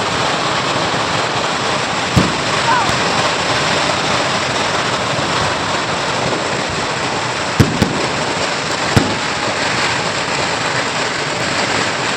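Fireworks at a church feast, a steady distant crackling roar punctuated by a few sharp, louder bangs, with no speech.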